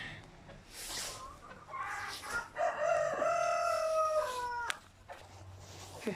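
A rooster crows once nearby, a long rising then falling call, with scattered clucks and softer bird noises from the chickens around it in a quiet coop setting.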